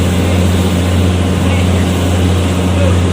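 Ship's engine running hard during an undocking maneuver, a loud, steady low diesel drone with strong hum tones, heard up close without a break.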